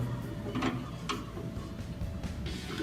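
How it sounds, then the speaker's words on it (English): A drill chuck is tightened with a chuck key, giving a run of close mechanical ratcheting clicks in short bursts with no talk. "Once you have it hand tight, that's when you go back to your key and you tighten it up."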